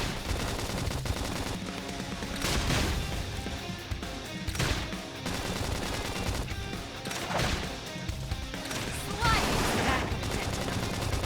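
Gunfire in a Xenoblade Chronicles X battle, dense bursts of shots and impacts that swell repeatedly over a busy game soundtrack, with voices speaking now and then.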